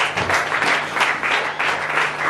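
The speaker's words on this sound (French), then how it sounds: "Acclamez pour cette parole." Church congregation clapping during a worship service, a continuous loud burst of applause from many hands, with a faint voice underneath.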